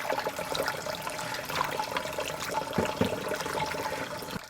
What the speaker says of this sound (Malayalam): ഇനി നമുക്ക് ആ വൃത്തിയാക്കിയ മീനിനെ വെള്ളം ഒഴിച്ച് കഴുകാം.